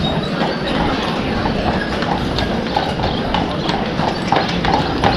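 Steady clip-clop of horse hooves on a hard street on Mackinac Island, Michigan, a continuous brisk clatter amid busy outdoor background noise.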